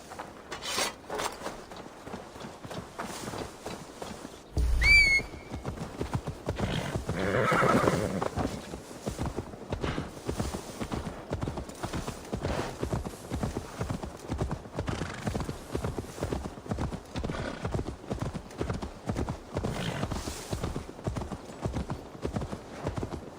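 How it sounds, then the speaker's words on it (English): Horse hooves clop in a steady, continuous rhythm in a video game, with a loud neigh near the start and a brief burst of louder sound, all fairly close. "Now to deliver Magni his horse."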